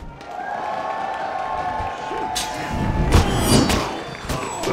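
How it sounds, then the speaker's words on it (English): Crowd at an esports fighting-game grand finals cheering and applauding, a broad roar with scattered loud thumps and bursts growing louder midway, with a voice over it early. "If you guys would like Kazunoko to take it, make some noise!"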